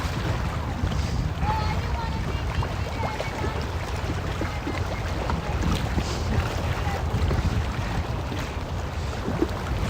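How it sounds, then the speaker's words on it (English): Steady wind buffets the microphone in a continuous rumbling rush on a chilly Amsterdam evening, with faint water and boat noise underneath. "It's also a little windy."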